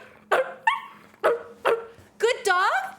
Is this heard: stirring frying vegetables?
no